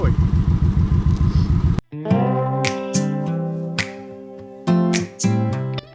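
Motorcycle riding through a rocky pass, its engine pulsing close and loud for under two seconds before it cuts abruptly to ringing musical tones.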